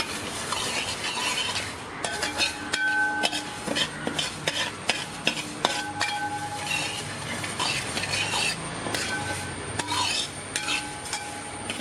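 Split moong dal roasting over a low flame in an uruli for parippu payasam, stirred with steady, repeated scraping strokes against the vessel, close and continuous with no voices.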